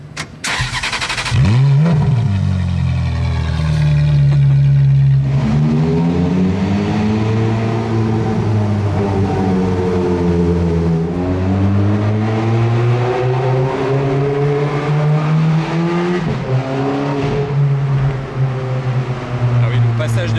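A Ferrari Daytona SP3 with a free-flowing exhaust roars continuously from close up, its engine pitch climbing and dropping through repeated gear changes while people talk inside the car.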